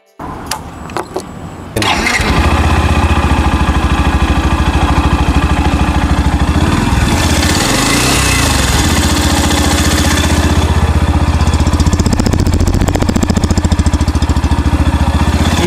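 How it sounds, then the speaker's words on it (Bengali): A Yamaha FZ-X motorcycle engine cranks after a few faint clicks, catches and settles into a steady, close idle that holds on without a break. "এবার আমরা গাড়ির স্টার্টিং সাউন্ডটা একটু শুনে নিব।"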